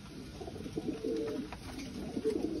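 At a loft after a 144 km training flight, pigeons give soft, low cooing calls in short repeated bursts, fairly close and quiet. No voices are heard.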